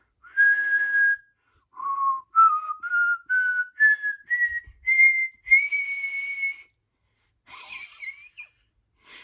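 A person whistles a rising scale, a series of clear separate notes stepping upward in pitch, each held briefly with short gaps, close and alone, ending with a couple of quick breathy trills.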